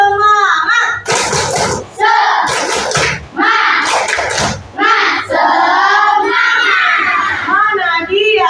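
Schoolchildren in a classroom chant together in unison and clap in bursts, loud and close, with shouted call-and-response voices between the claps.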